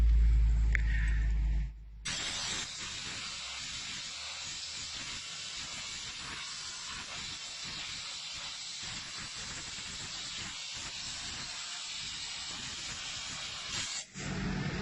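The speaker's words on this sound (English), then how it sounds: "I want you to put the nozzle in each and every hole you find separately." A sandblasting nozzle blasts sand out of the holes in a car body during automotive restoration, a loud continuous hissing roar that starts abruptly and runs steadily for over ten seconds before cutting off.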